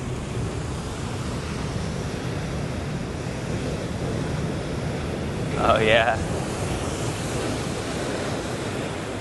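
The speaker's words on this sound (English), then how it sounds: "these ocean waves are getting pretty big" Steady roar of large ocean waves breaking on a shore, with broadband surf and wind buffeting the microphone throughout, and a brief voice near the middle.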